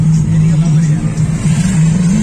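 A car idles in road traffic, with a steady low engine drone close by and a muffled wash of surrounding vehicle and street noise.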